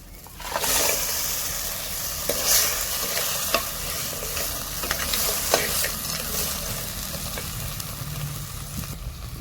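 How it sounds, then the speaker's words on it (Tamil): Crab fries with sautéed onion and tomato in a pan, a close steady sizzle broken by repeated scraping strokes of a stirring spoon. "வெங்காயம் தக்காளி நல்லா வதங்கினதுக்கு பிறகு நண்டு சேர்த்துக்கணும்."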